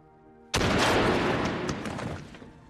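A single loud rifle shot from a German sniper in a World War II battle film, a sharp sudden blast followed by a long rumbling decay.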